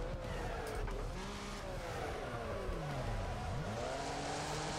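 Tires squeal in long, wavering, rising and falling tones as a car drifts sideways in the Wreckfest racing game, over a steady engine roar, close and loud without speech.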